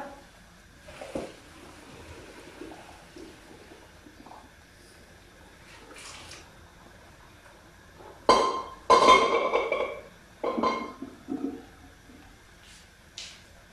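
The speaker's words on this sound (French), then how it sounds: "On égoutte les pâtes." Cooked spaghetti for carbonara drained from the pot, a loud rushing pour of water with clinks of the pan, in two or three bursts after a quiet stretch of faint kitchen noise.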